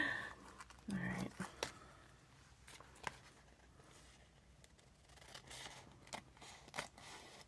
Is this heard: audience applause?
no